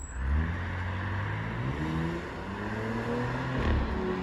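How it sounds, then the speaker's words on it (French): A Porsche Cayenne GTS passes by on the road, its engine note a smooth, fairly distant hum that rises and falls gently over a few seconds with no voices. "un petit Cayenne GTS qui passe"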